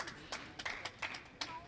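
Sharp hand claps at a sabers tournament event, a few quick isolated claps at irregular spacing, fairly close, over a murmur of background voices.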